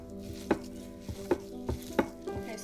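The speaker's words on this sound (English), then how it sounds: "I'm going to mix the salt with the chili, the coriander and the garlic cloves" Salt being mixed with green chili, coriander and garlic cloves for a raw mango chutney, with a series of separate soft knocks and scrapes, about one every half second, against a steady background hum.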